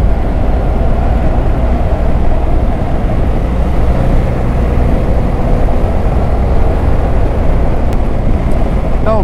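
Riding a BMW motorcycle on a road in the Harz, a loud, constant engine drone blends with dense wind roar, steady throughout with no clear breaks.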